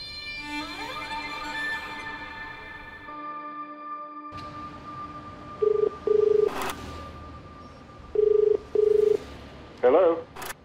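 A landline telephone dials out with a string of DTMF keypad tones, followed by several rings on the line in two paired bursts, close and clear over a low hum.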